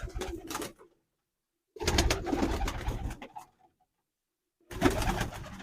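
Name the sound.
pigeons cooing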